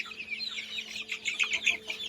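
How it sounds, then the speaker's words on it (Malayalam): Fayoumi chicken chicks clucking and peeping together, a busy, fairly close cluster of small high-pitched calls repeating steadily over a faint low hum, with no one speaking. "ഫയോമിൻ്റെ കുഞ്ഞുങ്ങളാണിത്."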